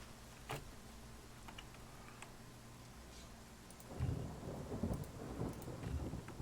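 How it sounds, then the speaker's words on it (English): Rain and rolling thunder in the video game Pathfinder: Kingmaker, a steady wash of rainfall with a sharp crack early on, then heavier low rumbling thunder building in the second half, with no talking. "Still raining."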